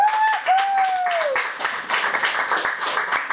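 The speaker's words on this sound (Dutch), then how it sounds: "Een applaus voor Jolies Heij" Audience applause for a poet at a poetry marathon, clapping from a small crowd that starts right away and carries on evenly, with a brief tonal sound at the start.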